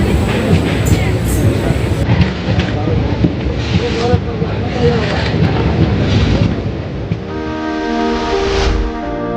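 A Tamralipta Express train rumbles loudly alongside a platform at Mecheda station with a steady mechanical roar, and a horn-like tone sounds near the end.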